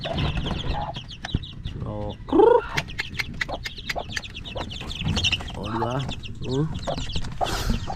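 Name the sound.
chickens clucking, hen and chicks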